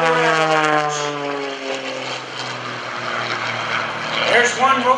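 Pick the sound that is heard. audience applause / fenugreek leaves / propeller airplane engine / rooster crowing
propeller airplane engine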